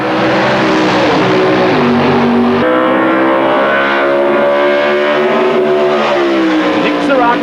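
Super Stock drag racing car launching down the strip at an ANDRA Spring Nationals meet, a loud, sustained engine roar climbing in pitch through gear changes, close and dominant throughout.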